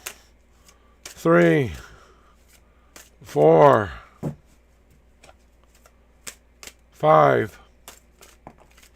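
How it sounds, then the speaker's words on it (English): Tarot cards being shuffled, with short loud papery riffles near 1.3, 3.5 and 7.2 seconds; a voice counts aloud in between, and softer card taps and handling noises fill the pauses. "All right, here are your 6 shuffles."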